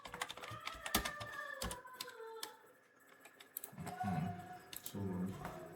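Computer keyboard clattering as a file name is typed in CAD software, uneven bursts of sharp key clicks with a short pause midway, close and moderately loud, with faint background sounds and no speech.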